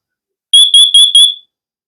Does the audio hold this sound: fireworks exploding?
no